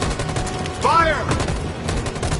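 A volley of gunfire rings out in a loud, dense burst right after a shouted order to fire, with raised voices mixed in around the shots.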